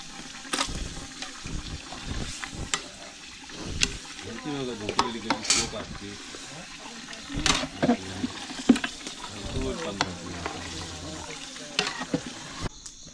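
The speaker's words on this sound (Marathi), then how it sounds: "मटण वगैरे जर फ्राय करून घेतला" A large pot of village-style mutton frying, with a spoon repeatedly scraping and stirring against the metal through steady sizzling, close by; someone talks quietly at times.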